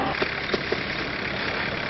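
A truck engine with special traction tires for steep, slippery hillside tracks, idling in a steady mid-pitched hum with a few faint knocks, close and continuous.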